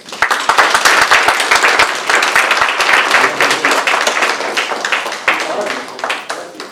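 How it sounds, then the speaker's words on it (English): A business alliance meeting audience gives a guest speaker a big, sustained round of applause, dense rapid clapping from many hands filling the room, loud and close, with scattered cheers and voices mixed in. "give a huge round of applause for a great speaker"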